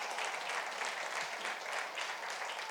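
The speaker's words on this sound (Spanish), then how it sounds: "Fuerte el aplauso al Señor." Church congregation applauding the Lord during a sermon, a dense, steady wash of many hands clapping at once, loud and continuous throughout with no voices standing out.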